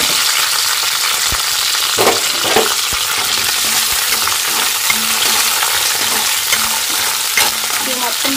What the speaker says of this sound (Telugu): చట్నీలోకి వచ్చేసి పచ్చిమిర్చి, అలానే అల్లం ముక్క, అల్లం, చున్నులపాయ, కొబ్బరి ఇంకెంతవరకు అయితే ఫ్రై చేసుకుందాం